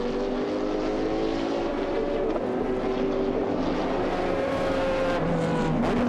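GT race cars, among them a Ferrari, race at the Dubai circuit in the 2005 FIA GT event. Several engines howl together in a loud, steady roar, and their pitches rise and fall as the cars pass.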